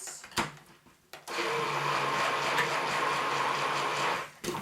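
Stick blender whirring steadily through soap batter for about three seconds, a loud continuous motor hum that starts abruptly after a couple of short knocks and cuts off just as sharply.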